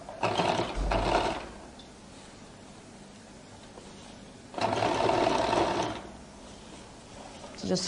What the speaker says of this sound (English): So I'll top stitch on the lining